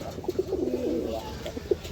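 Pigeons for sale coo in soft, rhythmic low hoots, a close series of rolling calls repeating through the moment over faint background noise.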